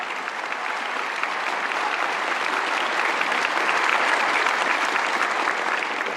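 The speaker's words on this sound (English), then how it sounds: "give that a huge round of applause" A large crowd applauds at a commencement ceremony, a loud sustained wash of clapping that swells slightly toward the middle and holds steady to the end.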